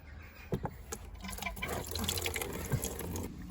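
Plain water without antifreeze drains from the radiator of a Honda CBR600 F2 motorcycle, a close trickling and splashing flow with a few sharp drips and knocks near the start.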